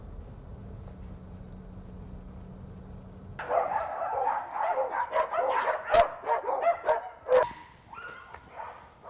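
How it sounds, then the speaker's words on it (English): After a quiet hum, several dogs bark and yip in quick, overlapping bursts, fairly close and lively, continuing to the end. "Look at the doggies"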